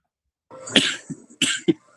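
A few coughs close by: a drawn-out rough cough followed by two shorter, sharper ones, with brief pauses between.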